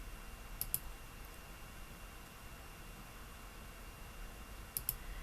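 Computer mouse clicks while editing a page title in the Wix website builder, heard as two quick pairs of sharp, faint clicks, one near the start and one near the end, over quiet background hiss.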